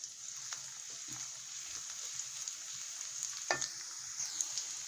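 Chopped onions fry softly in a pan with a quiet, continuous sizzle and an occasional light stir or scrape, fairly faint and with no speech.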